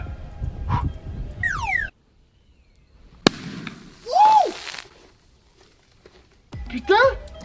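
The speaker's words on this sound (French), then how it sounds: "Bouteille de coca lancée d'un pont de 50 mètres. Et en plus secouée." A shaken Coca-Cola plastic bottle dropped from a 50 m bridge bursts with a single sharp, distant crack amid outdoor quiet, with excited whoops and voices before and after.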